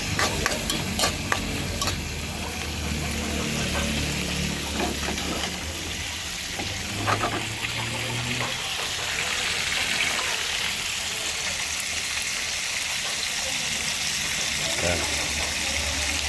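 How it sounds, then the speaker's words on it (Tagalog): Tomatoes sautéing in a frying pan for a sardine dish, with a steady broad sizzle and occasional stirring scrapes throughout; a voice talks now and then over the cooking. "Tutuin po natin ang kamatis."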